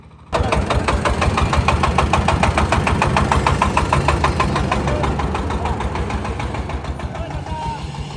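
A maize threshing machine's engine runs loudly and steadily with a rapid, even mechanical thumping that holds for several seconds after a sudden start.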